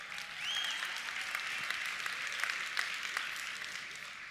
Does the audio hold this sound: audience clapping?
yes